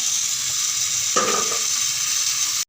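Whole peeled brinjals sautéing in hot oil for a brinjal kadayal, a loud continuous sizzle close up with a brief scrape of a spoon partway through, then cutting off abruptly.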